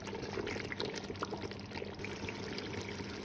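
Water pours steadily into a pot of simmering beef rendang stew, a soft, continuous trickle heard alone.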